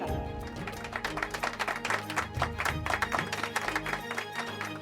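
Audience applause greets two poets at a wedding gathering in a Hindi TV comedy, a steady burst of clapping that swells and lingers for several seconds.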